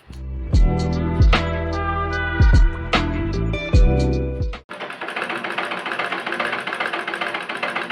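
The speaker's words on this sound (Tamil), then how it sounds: "அதுக்கப்புறமா நான் ஸ்டிச் பண்ண ஸ்டார்ட் பண்ணிட்டேன்" A sewing machine stitches a shrug, running in a fast, steady, close mechanical whir that starts partway through after a stretch of tonal music with sharp hits.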